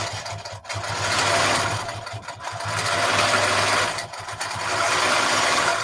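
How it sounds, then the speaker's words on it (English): A quilting sewing machine runs steadily at close range, a loud continuous mechanical whir of rapid stitching with brief dips and pauses between stitching runs. "And then it's going to start quilting."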